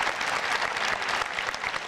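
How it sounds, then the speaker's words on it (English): At a high school commencement, the graduation audience gives sustained applause for local scholarship donors, a continuous wash of many hands clapping at moderate, steady loudness with no speech. "another round of applause, please, to our local scholarship donors for their generosity to the class of 2022"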